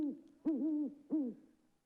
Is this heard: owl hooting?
yes